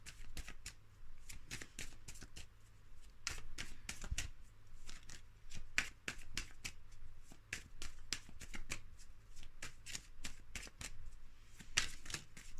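Tarot cards are shuffled close up in quick, crisp bursts of riffling and flicking, repeated throughout with short pauses and no talking.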